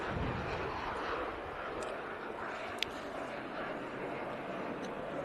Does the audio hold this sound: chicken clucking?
no